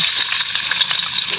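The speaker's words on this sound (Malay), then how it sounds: "First kita masukkan bawang putih, bawang merah" Garlic and shallots frying in a pan for a honey chicken dish, a steady close hiss and sizzle running throughout with no speech.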